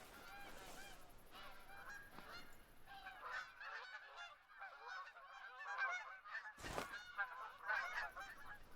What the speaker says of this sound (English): The geese noise is gonna be as annoying as hell.